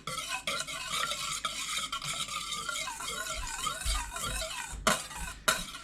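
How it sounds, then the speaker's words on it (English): A whisk clatters rapidly and rhythmically against a bowl, beating egg yolk and egg white together for scrambled eggs, close and continuous, ending with a couple of sharp taps on the rim. "You gotta whisk the yolk and the egg white together"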